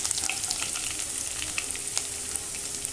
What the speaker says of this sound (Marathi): लसूण चांगली हलवून घ्यायची, जरासं ब्राऊन होऊ द्यायची.